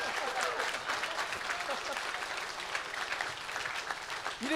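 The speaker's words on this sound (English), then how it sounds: "I can't believe I just got a round of applause for not doing the movie" A studio audience applauds steadily through a fan Q&A with the Clerks actors, a dense, sustained round of clapping with some crowd voices mixed in, holding at an even level to the end.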